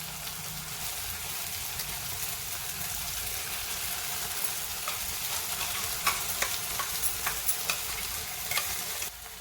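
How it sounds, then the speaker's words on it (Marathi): Steady sizzling and frying with occasional stirring scrapes as a thick ground gravy masala cooks with onions in hot oil, continuous and fairly quiet. "हे आपण कांद्यामध्ये व्यवस्थित परतून घेत आहोत अगदी तेल सुटेपर्यंत आपल्याला ग्रेव्ही परतून घ्यायची आहे"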